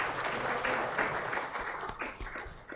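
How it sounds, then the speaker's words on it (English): Audience applause for the panelists and moderators at a spectrum policy conference session, a steady wash of clapping from a seated crowd filling the hall before fading toward the end. "So please give a round of applause for all our panelists and moderators."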